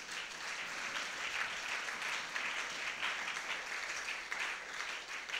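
Sustained applause from a church congregation acclaiming the Lord during a women's gathering, dense steady clapping from many hands filling the whole stretch without a break.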